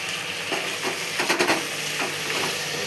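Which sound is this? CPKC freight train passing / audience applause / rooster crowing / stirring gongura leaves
stirring gongura leaves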